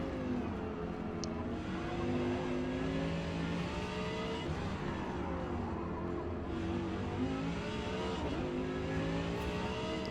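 An Audi R8 GT race car in Forza Motorsport at Mid Ohio, its engine revving continuously with rising and falling pitch through gear changes, loud and steady with no talk.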